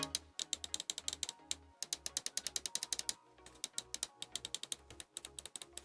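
Rapid bursts of sharp plastic clicks from a Galax Slider 05 ARGB lightweight honeycomb gaming mouse, with several quick clusters of button presses separated by short pauses, close and crisp.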